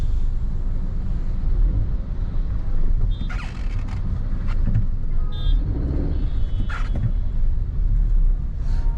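Steady road rumble and wind noise inside a moving car on a busy highway, with passing vehicles swelling by now and then, continuous and fairly loud with no talk.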